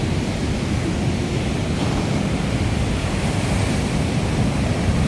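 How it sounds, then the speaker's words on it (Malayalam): Sea waves break on Varkala Edava beach in Kerala, a loud, continuous roar of surf mixed with wind rush and no pauses. "അടുത്ത തിര വന്നാൽ നമ്മളിവിടെ വരും വെള്ളം"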